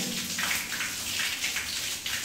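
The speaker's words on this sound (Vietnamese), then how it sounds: "Như các bạn nhìn thấy đây, nước chảy ra rất là nhiều." Water gushing hard from a broken faucet, a loud, continuous hissing splash that runs unbroken and close, with no talk.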